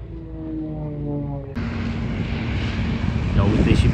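An Antonov An-2 biplane's propeller engine drones steadily nearby at a skydiving dropzone, its tone shifting and growing slightly louder, with wind noise buffeting the microphone.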